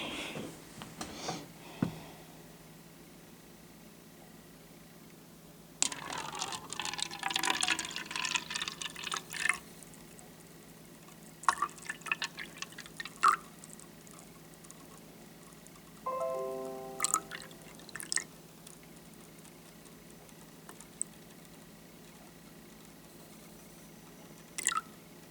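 Vinegar is poured into a container on a scale in a school lab for a baking soda reaction. Soft trickles and drips come in scattered bursts with quiet pauses between, and a few light clinks of handling are heard.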